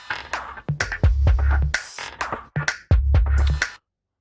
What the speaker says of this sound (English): What you're hearing here is the basic Groundshaker groove.